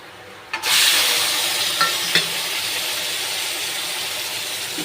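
Loitta fish dropped into browned onions in a hot pan, erupting into a loud, steady sizzle after a sharp initial splash, with a couple of faint utensil clicks as the frying continues on its own.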